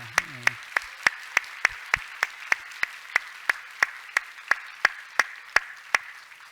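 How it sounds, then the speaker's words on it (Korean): A church congregation claps in welcome for a newly registered member, about twenty crisp, evenly spaced claps in a steady unison beat, with a brief voice at the very start. "우리 박수로 한번 환영해 줍시다."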